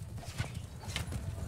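Horse hooves clip-clop in Mount & Blade 2 Bannerlord, a steady, fairly close gait of repeated soft thuds with sharper ticks, riding over a constant low rumble of game ambience.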